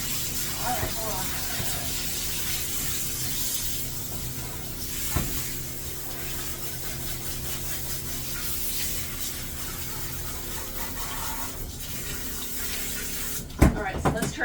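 Water sprays steadily from a hose while a Sheep-a-doodle dog is washed during grooming, a continuous hissing rush with a few brief knocks and a louder burst near the end, and a voice speaking over it at times.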